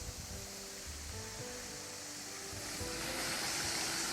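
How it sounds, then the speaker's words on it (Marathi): A waterfall flowing in the Andharban forest in Maharashtra, heard from a bridge as a steady, dense rushing roar that swells slightly toward the end, with no voices. "कुंडय वरून येणारा धबधब्याचा छान आवाज इथे येऊ शकतो"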